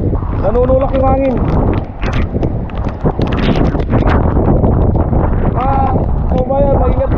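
Typhoon wind blasts loudly and continuously beside a home, a harsh buffeting roar against the microphone, while someone speaks over it in short stretches.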